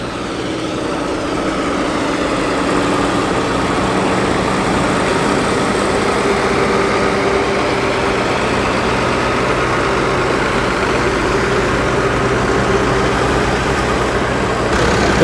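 Vintage tractor engines idle steadily at a rally of classic cars and lorries, a continuous low mechanical rumble holding level and fairly loud for the whole stretch with no talk over it.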